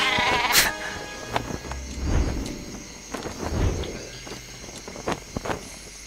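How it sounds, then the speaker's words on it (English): Flying sheep weapon bleating in Worms Reloaded, several short nasal bleats scattered through the stretch amid game clatter and thumps. "Fly, my sheepy, fly!"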